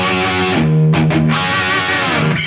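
A distorted electric guitar plays a riff, thick sustained chords ringing loudly and continuously with a slight dip midway, heard alone without any talking.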